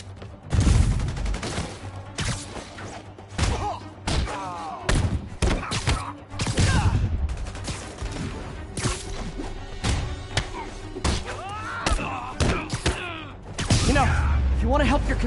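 Gunfire from armed enemies in Spider-Man Remastered, scattered bursts and thuds breaking through over 15 seconds amid game dialogue and voices.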